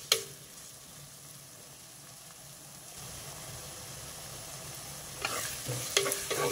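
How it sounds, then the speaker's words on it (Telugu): Onions fry in a pan for boondi curry, a soft continuous sizzle at low level that grows a little louder toward the end, with a few stirring scrapes and clinks. "ఉల్లిపాయలు ఇలా వేగితే చాలు"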